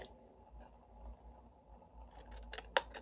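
Scissors snip through a Halloween paper treat box, a couple of quiet, crisp cuts near the end after a stretch of faint room hum.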